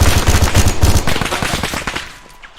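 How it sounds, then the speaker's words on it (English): Pistol fire in the military shooter ArmA 3: a fast run of loud, close shots in quick bursts with short gaps, then a fading tail of echo. "See if I can take one out with a pistol."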